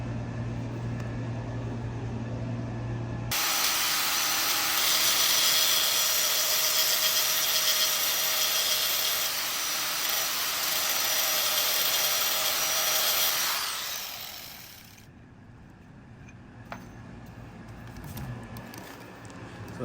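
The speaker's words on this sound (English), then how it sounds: "we grinded this down just a tad bit, just to slide this thing in here" Power grinder works down a gear tooth on a Ford Crown Victoria's 4.30 rear-axle gear set, a steady loud whine running about ten seconds before winding down, with only faint background noise afterward.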